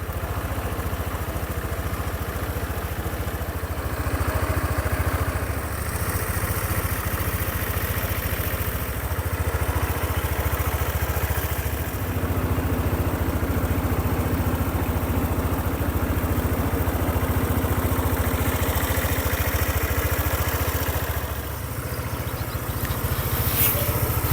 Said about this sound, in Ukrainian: Скутер вже працює. Двигун працює без жодних нарікань.